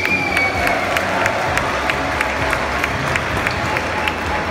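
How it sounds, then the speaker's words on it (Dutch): A crowd applauds and cheers for the winner, Esmee Schreurs, on the way to the Voice Kids final, with loud continuous clapping, scattered shouts and a steady roar throughout. "Dames en heren, geef ze een geweldig applaus"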